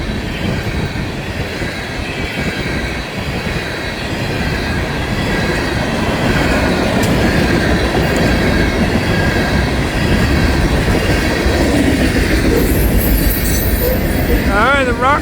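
Florida East Coast Railway freight train hauling scrap metal cars rolls past close by, a steady loud rumble of wheels with squealing and clickety-clack that continues throughout.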